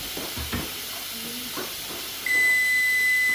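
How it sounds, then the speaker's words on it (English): An Instant Pot cooking rice abruptly starts venting steam, a loud, sustained hiss with a whistling tone that cuts in after a few faint kitchen clatters and carries on to the end. "I kind of don't want all that steam going on in my cabinet there."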